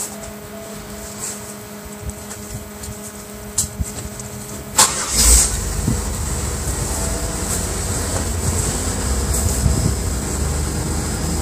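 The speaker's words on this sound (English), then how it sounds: "it has this antenna that goes up when you start the car, when you put on the radio" A 1998 Oldsmobile LSS starts with a short cranking burst and then settles into a steady idle. A faint whir from the power antenna rising fits under the running engine, recorded close with no talk.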